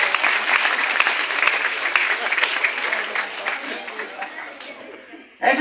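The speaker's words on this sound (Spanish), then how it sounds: "vamos a hacer un fuertísimo aplauso" Loud, dense applause from an audience at a recognition ceremony for neighbourhood committees in Otay Centenario, sustained close clapping with voices mixed in, dipping briefly near the end before surging again.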